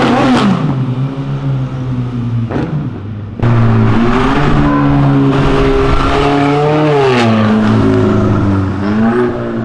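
A Volkswagen Golf GTI revving hard and bouncing off its rev limiter, the engine note rising and cutting out repeatedly in loud, close, choppy bursts with brief drops between pulls.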